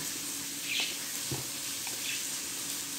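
Rice frying in oil in a pan, a steady soft sizzle throughout with faint stirring scrapes, close and fairly quiet, no talk.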